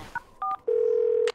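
A telephone is dialed in a cartoon: two short keypad tones, then a longer steady tone, all clean, close and loud, with no talk over them.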